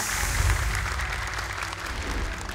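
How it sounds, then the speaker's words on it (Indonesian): Studio audience applauding for two young Quran memorization contestants on an Indonesian televised hafiz competition, a dense, steady wash of many hands clapping with a low rumble underneath, loud and sustained throughout. "Tepuk tangan dong sekali lagi untuk mereka."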